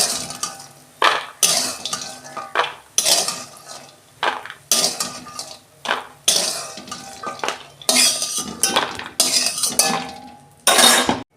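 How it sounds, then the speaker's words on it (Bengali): A metal spoon clinks and scrapes against a pan while fried bori (lentil dumplings) are lifted out, giving irregular bursts of clatter with short pauses between them, close by and with no talking. "এই যে আমার বড়ি ভাজা হয়ে গেছে, আমি তুলে নিচ্ছি"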